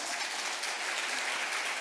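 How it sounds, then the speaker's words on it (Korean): Applause from a church congregation at a Sunday service, a steady dense wash of clapping held evenly throughout without gaps. "박수 한번 주세요"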